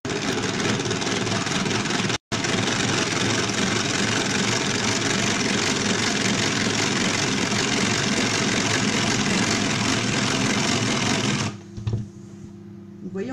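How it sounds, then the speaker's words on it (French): An electric mixer on speed 1 whips egg whites with a loud, steady whirring drone that breaks once briefly, then stops near the end as a voice speaks over the quieter room. "On va déjà monter nos blancs en neige"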